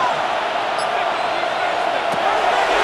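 Stadium crowd at a Carolina Panthers versus Atlanta Falcons game in Madden NFL 26, a steady broad roar of fans building before a third down, with a commentator talking over it.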